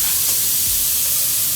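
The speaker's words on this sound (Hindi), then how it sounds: "अपने प्रेशर कुकर की गैस जो है वो सबसे पहले हम निकाल लेंगे" A pressure cooker holding mutton biryani lets off its built-up steam after the flame is turned off, giving a loud, steady, close hiss that runs unbroken throughout.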